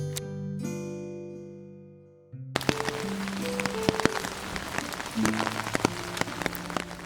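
Monsoon-season rain falls outside a window as a dense, continuous patter. A soft tonal melody plays alone at first, then carries on faintly beneath the rain.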